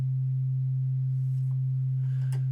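A pure sine tone from a MIDI keyboard synth holds steady and loud for the whole stretch, a single unwavering low pitch with faint background clicks near the end.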